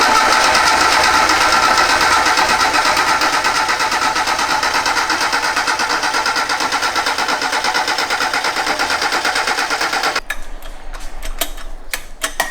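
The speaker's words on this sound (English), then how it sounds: "it'll probably take a bit of cranking to get that mechanical fuel pump going" A Mazda 121's freshly swapped engine cranks over continuously on the starter for about ten seconds with a steady, rapid rhythmic chug, loud and close, then stops, leaving a few faint clicks.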